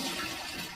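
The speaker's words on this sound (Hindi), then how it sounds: "ये जो पानी आ रहा है ये सीधा ही कनेक्टेड है हमारे कुएं से" Water runs from a tap fed directly by a well, a short, quiet, steady rushing splash with no voices.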